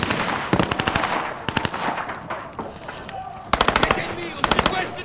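Bursts of rapid automatic gunfire from Call of Duty Modern Warfare, several loud rattling volleys separated by short pauses, with game battle ambience and radio voices underneath.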